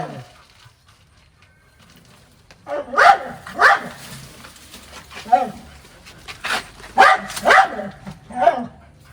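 A frightened dog barks sharply in quick pairs and single yelps, close and loud, with pauses of panting between bursts, near a spectacled cobra and a bird's nest.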